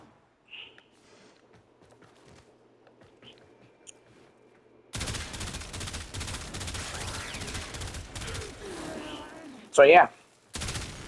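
Rapid weapon fire hitting a level 30 heavy gunner in Warframe: a quiet stretch, then loud sustained automatic shots from the midpoint with a sharp burst near the end, and a brief voice speaking.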